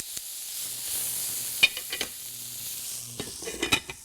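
Riced cauliflower with scallions is stirred in a hot skillet: a soft steady sizzle broken by scraping, clattering strokes of a utensil, close and moderately loud, without talking.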